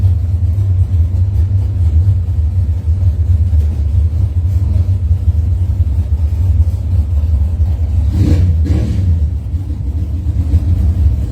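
Cars in round two of a Pro Systems bracket drag race at a test-and-tune event, a loud continuous engine roar and rumble that swells briefly near the end.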